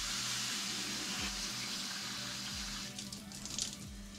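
Water poured into the cooling system of a Yamaha Aerox scooter, a steady rushing fill with low engine-like hum beneath, turning splashier and more uneven toward the end, heard up close without talk.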